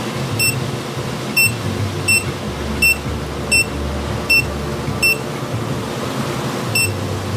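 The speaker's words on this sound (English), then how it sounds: "there's also a keypad in the front, as you notice right here, and you will put your code in" A Eufy Security smart door lock keypad beeps as a code is entered: nine short, high, clear electronic beeps at roughly even spacing, standing out over faint room hum.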